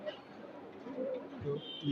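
A female pigeon coos in short low phrases nearby, a few distinct calls in two seconds, with a faint voice alongside.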